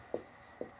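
A pen marks out a maths answer on paper in two short, separate strokes, faint and close, with no talking.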